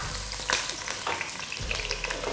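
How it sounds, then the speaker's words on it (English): Diced onion hitting hot oil for a vegetable sauce, a loud continuous sizzle and crackle with occasional stirring scrapes, close up and with no talking. "Okay, so now I'm going to throw in my diced onion."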